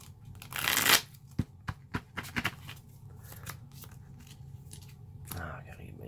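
A deck of Magic: The Gathering cards riffled once in a quick burst, followed by several sharp snaps and taps of cards, close by with no talking.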